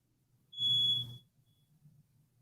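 A smoke alarm gives a single low-battery chirp, a sharp high-pitched beep lasting about half a second. It sounds indoors against quiet room noise.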